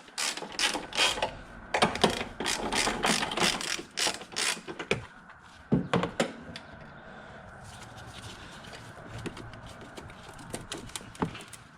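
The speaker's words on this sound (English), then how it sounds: "I am going to loosen this just a tad" A ratchet wrench loosens a bolt on a Lexus GX470 in quick runs of close, rapid clicking, with pauses and a few metallic knocks between strokes and no talk.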